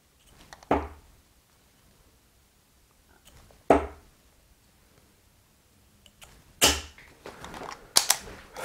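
Darts thrown at a dartboard during a practice session aimed at the 20, landing in sharp, loud thuds: two isolated hits, then a quicker cluster of three or four near the end, with quiet gaps between.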